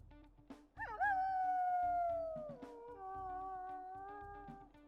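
A wolf howls in the game WolfQuest: a fairly deep, sustained tonal call that rises at the start and slowly falls, followed by a second long, lower howl, both clear and fairly close over quiet background.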